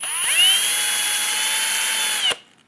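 A power drill whines steadily at high speed as its bit bores through brass, running for a couple of seconds before stopping abruptly with a short click, heard close and alone.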